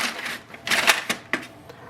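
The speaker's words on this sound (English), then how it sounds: "Paper tray is here just in the front." A paper tray slides out of the front of a Brother MFC-J1360DW inkjet printer, giving a few short plastic clicks and scraping rattles over about two seconds, close and fairly quiet.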